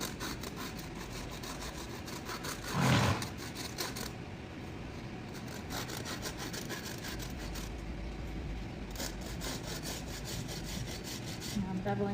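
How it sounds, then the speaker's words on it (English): A hoof rasp bevels the edges of a horse's hoof during a barefoot trim. Rough scraping strokes come in short bursts, with one louder stroke early on and quieter rubbing after it. A low background hum runs underneath. "Now I'm beveling the edges."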